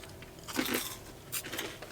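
Crunchy bites into Burger King's Halloween Addams Family menu food, a few close crisp crunches and chewing sounds spread over about two seconds, fairly quiet with no talking.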